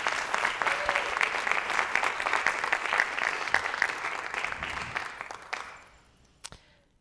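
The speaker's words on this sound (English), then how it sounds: "So we want to give a round of applause to our 3 finalists." An audience at an international theatre award ceremony claps for three finalists, a full burst of many hands that holds steady, then thins and dies away to a few scattered last claps.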